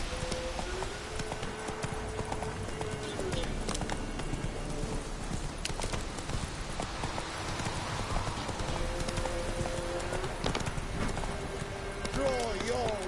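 Roach the horse from The Witcher video game gallops with a fast, continuous clip-clop of hooves, up close under game music, a short neigh near the end, and a voice talking.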